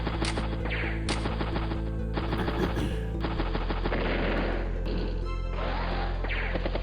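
Rapid bursts of gunfire and crashing impacts as a Duster plane attacks a wounded seaplane in Advance Wars: Days of Ruin, loud and continuous over layered game music.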